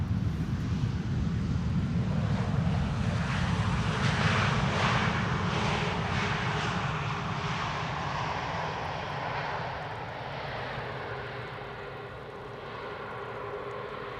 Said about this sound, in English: Tapa Portugal, flight 668, arriving from Lisbon.